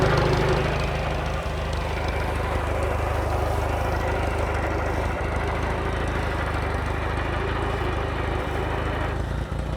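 A tractor engine runs steadily while the tractor rolls downhill in a field, producing a continuous low, droning engine note that stays fairly even throughout.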